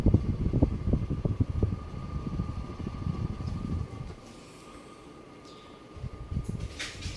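Airflow from a 52-inch SMC HDC52 ceiling fan makes a soft, steady rushing whoosh with low fluttering, stronger at first, dipping quieter midway, then rising again.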